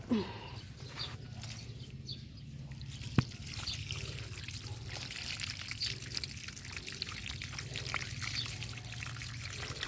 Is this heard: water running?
yes